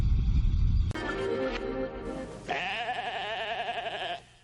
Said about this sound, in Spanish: Es la oveja más famosa de la historia.